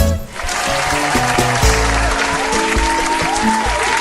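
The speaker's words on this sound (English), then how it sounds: "Thank you for the applause." Loud, sustained applause from a crowd, dense clapping filling the whole stretch with faint tonal music underneath.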